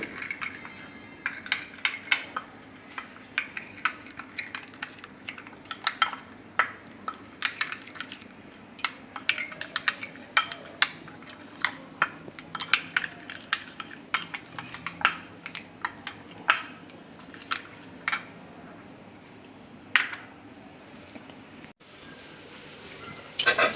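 A spoon clinks and scrapes against a bowl in irregular, close taps while soybeans are stirred and mixed, with no talking.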